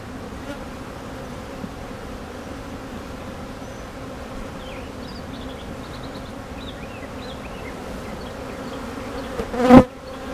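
Honeybees drone steadily around an open hive, a close, continuous buzzing swarm with a few nearer bees passing, and one sharp loud bump near the end.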